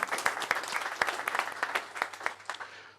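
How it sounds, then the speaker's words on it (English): Moderately faint audience applause at a finance panel on crypto and fiat markets, individual claps distinct and irregular, fading toward the end with no speech over it. "So round of applause to everyone."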